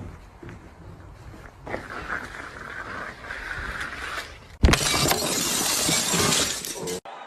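Thin glass shatters with a sudden loud burst about two-thirds of the way through, followed by a bright crackling spray of fragments; quieter room noise and faint rustling come before it.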